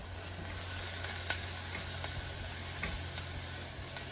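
Onions frying in a pan for baigan bharta give off a steady, even sizzle, with a few faint stirring taps and no talk.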